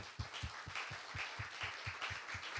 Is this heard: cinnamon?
no